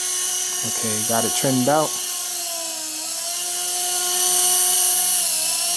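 A TX nano RC helicopter hovers and flies with a constant high-pitched rotor and motor whine throughout, shifting slightly in pitch, while someone speaks briefly near the start.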